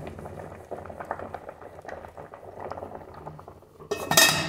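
Rice boiling in an electric rice cooker, a steady close bubbling and simmering with faint clinks, ending in a louder burst of hissing steam near the end.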